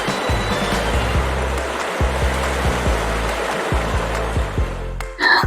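Clean, cold river in a remote spot, a steady broadband rush of flowing water close by, overlaid with a low rhythmic mechanical chugging and ending with a brief louder splash or clatter.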